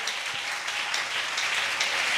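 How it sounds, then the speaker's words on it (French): A church congregation at a Sunday service cheers and applauds for Jesus, a dense, steady wash of clapping and crowd noise filling the whole moment without a break. "je voudrais que vous acclamiez maintenant pour Jésus"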